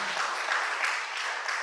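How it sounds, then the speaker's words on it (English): Conference audience at the Africa WSIS Annual Review Meeting in Dar es Salaam applauding, a steady, dense wash of many hands clapping throughout, moderately loud and even with no pauses. "Give yourself a round of applause"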